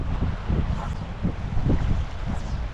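Wind gusts buffet the microphone outdoors while fly fishing in Wyoming, a loud low rumble that swells and fades in uneven surges.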